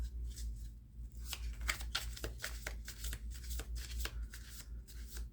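Tarot cards are shuffled by hand, a soft, continuous riffle and slap of cards with crisp flicks throughout, close but quiet over low room hum.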